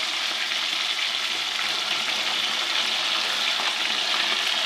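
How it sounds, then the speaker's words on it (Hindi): Fish frying in a pan over a medium flame, a dense, even, close sizzle that holds steady throughout with no talk. "मीडियम फ्लेम पर हमने इसको दोनों तरफ से तकरीबन दो दो मिनट फ्राई करना है"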